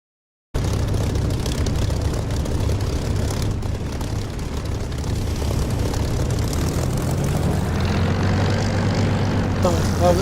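Aircraft engine during takeoff in the DCS flight simulator, a steady loud propeller drone that holds level and builds slightly toward the end.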